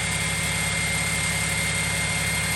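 A car engine idles steadily at close range while warming up, a constant loud rumble and drone with no change in pace and no voices; the exhaust rattles against the heat shield.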